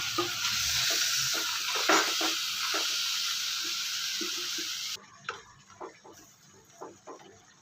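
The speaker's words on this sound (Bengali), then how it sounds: "এখন আদা রসুনের পেস্টটা দিয়ে আর একটু ছাতলে নেব।" Fish roe with ginger garlic paste sizzles in a pan while a utensil stirs and scrapes in irregular clicks; the hiss is strong at first, then drops away, leaving sparse close stirring taps.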